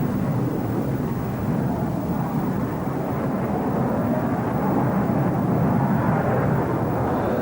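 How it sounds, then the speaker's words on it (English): An F-16 fighter jet roars with a deep, continuous rumbling engine noise that holds steady and loud throughout, with no voices. "still the F-16 is probably the most agile aircraft in the sky"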